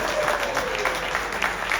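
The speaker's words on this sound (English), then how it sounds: "So a huge round of applause for Jamie." Audience applause at a talk in the Adirondacks, a dense steady clapping from a crowd, close and fairly loud, with a few light voices underneath.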